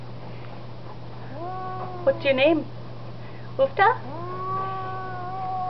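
A complaining house cat meows repeatedly in drawn-out, rising and falling cries, with two sharp, louder calls standing out, close by over a steady background hum while a person talks softly.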